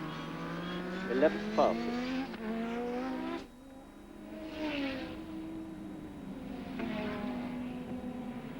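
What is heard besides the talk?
Prost's McLaren Formula 1 car in 1986 Hungarian GP practice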